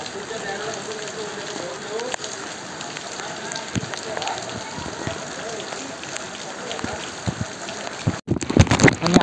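Heavy monsoon downpour in Chiplun, a continuous dense patter of rain on surfaces with scattered louder drips, growing rougher and more turbulent near the end.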